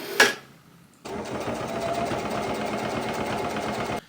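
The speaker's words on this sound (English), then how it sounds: "So now we're just going to sew them together." A home sewing machine stitches the front and back pieces of a knit cardigan together, starting after a brief knock and then running as a steady, close, rapid mechanical whir for about three seconds.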